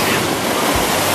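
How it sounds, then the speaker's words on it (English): Ocean waves seen from a boat give a short, loud burst of broad rushing wash with no break. "There goes the wave!"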